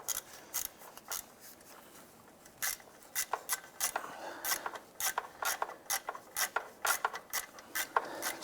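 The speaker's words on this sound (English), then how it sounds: "Get a ratchet on there. See if we can loosen that." A ratchet works on a bolt on the rear engine mount of a 2001-2005 Honda Civic, giving quiet, rapid clicking and rasping strokes in uneven bursts, close by and without talk.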